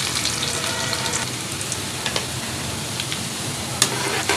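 Cumin seeds and finely chopped garlic fry in hot oil for a Bhindi masala, giving a steady, close, continuous sizzle with a few small pops and crackles throughout, no talking.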